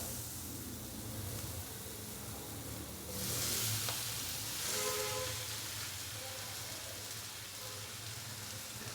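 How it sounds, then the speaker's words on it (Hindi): Boiled potatoes are tipped into a pan of spices frying in oil and stirred in for a samosa filling. A steady sizzle runs throughout, with a louder hissing surge a few seconds in and soft scraping as everything is mixed. "बॉईल किए हुए आलू डालने के बाद अभी अच्छे से इसको मिक्स करेंगे"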